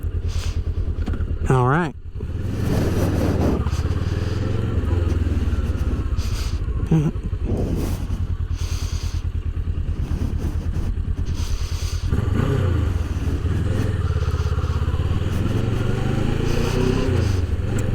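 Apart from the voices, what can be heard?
Kawasaki Versys 650 motorcycle engine running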